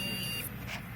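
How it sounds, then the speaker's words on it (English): A custom-built desktop computer's motherboard gives a beep code, a faint electronic tone over steady fan hum in a short stretch with no talk. "we got a beep code, as you guys can hear"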